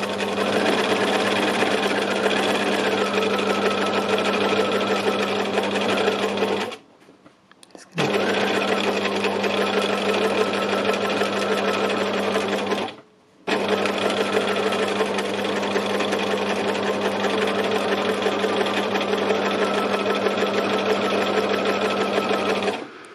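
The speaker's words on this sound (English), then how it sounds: "Free machine embroidery, it's the way to go." A sewing machine running continuously for free machine embroidery, a loud, steady rapid whirring stitch broken by two brief pauses, with no talking.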